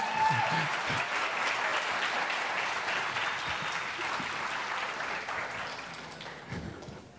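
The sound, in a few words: audience applause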